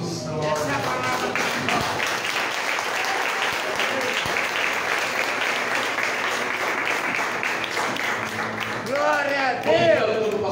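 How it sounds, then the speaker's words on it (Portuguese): Congregation clapping steadily through a church service, a dense continuous patter of hands with a voice singing or speaking loudly over it and a shout near the end. "Aplauda Jesus."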